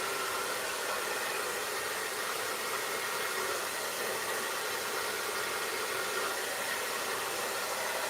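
A hair dryer blowing steadily during a barber's haircut, a constant airy whoosh with a faint motor hum, close and unbroken throughout with no talk.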